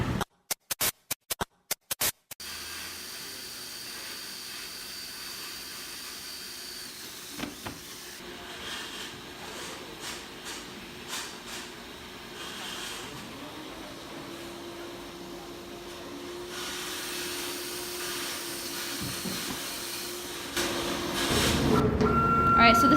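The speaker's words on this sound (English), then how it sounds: "this is our new CNC router" A newly installed CNC router being set up runs with steady mechanical noise and whining motor tones that shift in pitch, after a burst of sharp clicks at the start, growing louder toward the end.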